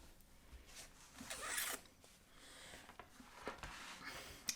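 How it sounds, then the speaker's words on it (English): A scalpel slices along the edge of fabric on a journal cover, with faint, close scratchy drags in short strokes and no voices. "I'm going to cut along the edge of the fabric as neat as I can with a scalpel"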